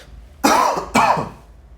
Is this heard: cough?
yes